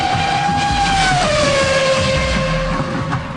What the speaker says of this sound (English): Or even the banshee wail of an F1 car.